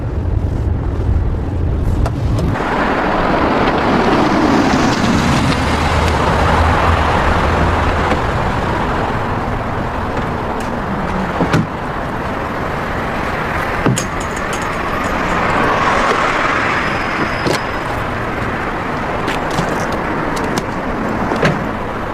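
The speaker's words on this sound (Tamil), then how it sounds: "ஜேசன், கொஞ்சம் வண்டியை நிறுத்துறியா?" Close inside a car, a loud engine rumble and road noise run steadily as the car slows in traffic and comes to a stop. A few clicks and knocks are heard, and no one talks.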